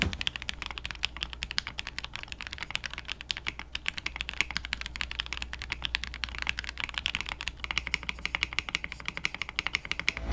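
Rapid, continuous typing on an Ikki68 Aurora R2 mechanical keyboard with no case dampening, giving a close, even stream of crisp key clacks with occasional heavier strikes.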